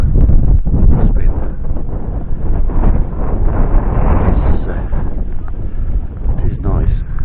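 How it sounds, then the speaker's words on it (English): Strong wind buffets a microphone outdoors at a self-build site, a loud continuous roar with gusting texture throughout, while someone talks over it. "That wind."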